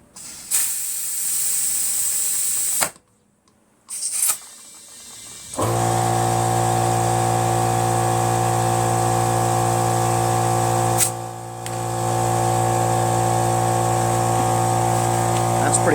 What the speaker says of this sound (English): I'm going to now fill it up with air.